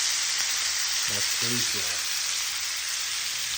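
Steady bright sizzle of ribeye steak searing in a hot cast iron pan, continuous and close, with a brief spoken remark over it.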